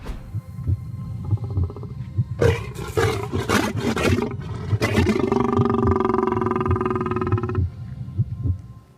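A lion in a zoo enclosure lets out a deep, loud roar from close by, building through a series of heavy grunting bursts into a long, sustained rumbling growl.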